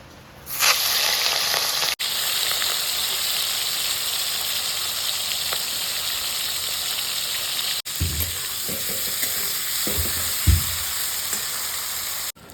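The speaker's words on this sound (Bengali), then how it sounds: "তেল গরম হয়ে গেছে, মাছ কটা ভেজে নেবো আগে।" Fish pieces fry in hot oil for a prawn cutlet recipe, giving a loud, steady sizzle and hiss close up, broken by a few brief clatters of utensils near the end.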